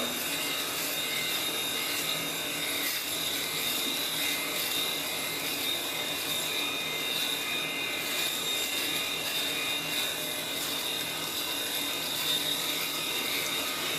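Continuous close-up buzzing whir of a Norelco electric shaver cutting stubble, steady and unbroken throughout.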